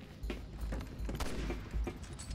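Gunshots in Resident Evil 6, a run of separate loud blasts spaced irregularly about a third of a second apart, with low booming thumps between them and no talking.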